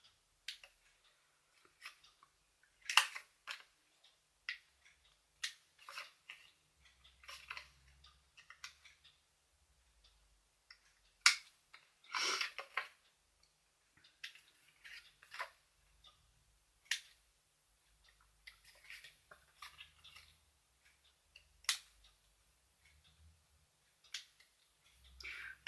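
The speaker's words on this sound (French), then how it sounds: "avec mes petits ciseaux je coupe toutes les petites" Scattered sharp snips of small scissors cutting paper for a 3D scrapbooking card, quiet and close, coming in irregular bursts with pauses of near silence between them.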